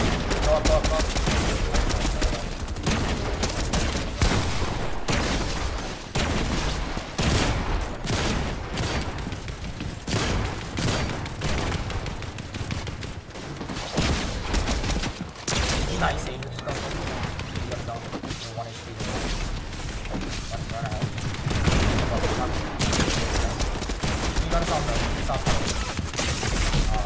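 Rapid gunfire bursts and shots from a Fortnite match in a competitive grand-finals tournament, dense and continuous throughout, mixed under excited talk from players.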